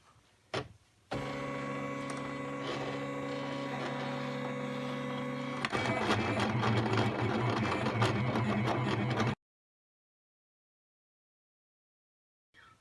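A Silhouette Cameo cutting machine runs a metal etching tip across a metal sheet, giving a steady whirring motor tone with rapid ticking, which turns rougher and busier midway before stopping abruptly into silence.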